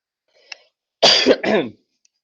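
A faint small sound, then a close, loud throat clearing followed immediately by a rough cough, in otherwise quiet surroundings.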